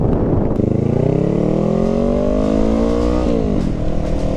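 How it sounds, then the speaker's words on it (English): A motorcycle accelerates hard and close, its engine note rising steadily through the revs, then dipping briefly as it shifts before climbing again, loud and continuous throughout. "Oh man, it accelerates super fast, eh?"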